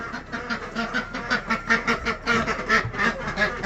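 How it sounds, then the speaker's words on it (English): Several ducks quack repeatedly in a lively, overlapping chorus, close by and fairly loud, with a steady rhythm of nasal calls. "What is going on, ducks? What are you doing in here, ducks?"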